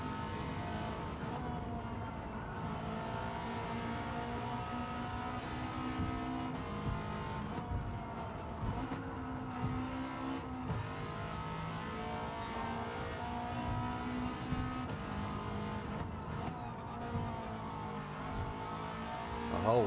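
Subaru Impreza WRX STi from 2004 in Gran Turismo 7 on the Tokyo Expressway, its engine droning steadily and loud throughout with gear shifts and revs rising and falling, no talk.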